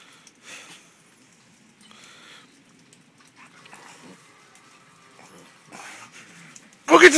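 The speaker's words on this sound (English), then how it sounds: "This is just my dog in the snow." A dog plays in the snow with faint, scattered panting and snuffling close by, broken by quiet gaps, followed by a sudden louder burst of movement at the end.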